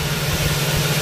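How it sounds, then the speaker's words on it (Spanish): Car radiator cooling fans run with a steady, loud broadband whoosh over a low hum, heard close up for about a second. "inmediatamente se activan los ventiladores."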